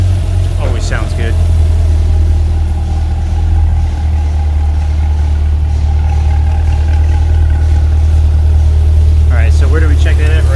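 A 2020 Chevrolet Corvette engine idles with a steady, loud low rumble throughout, and people talk briefly near the start and end over it.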